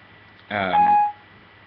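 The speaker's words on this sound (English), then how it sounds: "Whoa, my phone's going off." A smartphone alert sounds once, a short bright electronic chime with a sustained tone lasting about half a second, close and loud over a quiet room.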